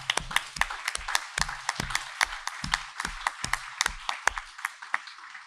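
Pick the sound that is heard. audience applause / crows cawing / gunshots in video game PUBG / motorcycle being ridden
audience applause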